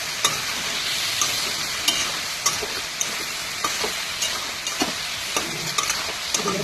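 Chicken sautés in a pan with a ground paste of ginger, garlic, green chili and cumin: a dense, even sizzle runs throughout, with regular spoon scrapes and taps close by and no voices.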